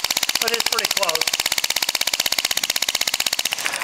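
A piston valve style compressed air engine runs steadily with a fast, even chuffing beat of sharp exhaust pulses, loud and close throughout, with a brief change in the final moments.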